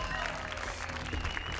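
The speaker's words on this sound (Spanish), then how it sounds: "Un aplauso, por favor, fuerte." A live TV game-show studio audience in Peru claps in a steady, dense patter, heard faintly throughout.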